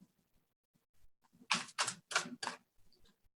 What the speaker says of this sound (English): This is a huge deck. This is really hard to shuffle.